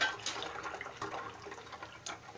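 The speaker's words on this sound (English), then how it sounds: "adding some hot water" Hot water poured for calamansi juice, a continuous close splashing gush with small surges and bubbling, steady and fairly loud for its short length.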